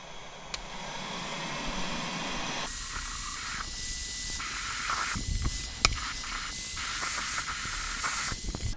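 Heat gun blowing hot air into a Snapper mower's plastic fuel tank to dry it, a steady broadband hiss that starts soft and grows louder and brighter partway through, with small knocks.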